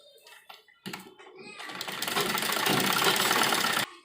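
A sewing machine runs a double line of stitching around the neckline of a frock: a few short bursts, then a steady, loud whirring run that stops abruptly.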